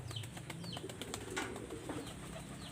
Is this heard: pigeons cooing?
yes